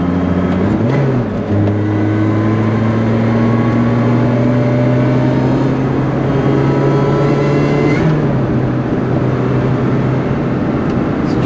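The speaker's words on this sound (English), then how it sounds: "Gee whiz, this car is freaking fast." A Lotus Exige S sports car engine drones steadily from inside the cabin during a fast twilight drive, with continuous loud engine tones that shift pitch through gear changes and acceleration.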